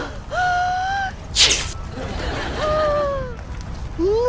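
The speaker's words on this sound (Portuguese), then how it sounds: "Um espirro de raios." A cartoon girl's sneeze that shoots out rays: a sharp broadband burst lands mid-clip, framed by squeaky rising and falling voiced cartoon sounds before and after.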